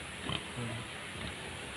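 A farm pig snorts and grunts while rooting and plowing up soil in a field, with a few short close grunts over a steady outdoor background.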